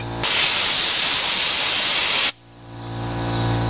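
A loud, steady hissing spray from an engine cleaning gun washing a garden tractor blasts for about two seconds, then cuts off sharply, leaving a lower mechanical hum that slowly builds.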